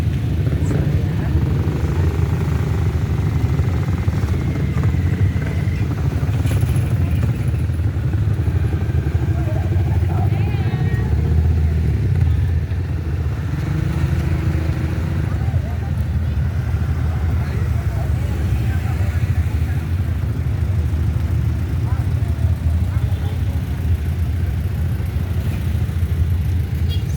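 Motorcycles, pickups and kolong-kolong tricycles roll past in a fiesta street parade in Barrio Sto. Niño, a steady mix of engine rumble and clatter, moderately close, with crowd voices and talk throughout.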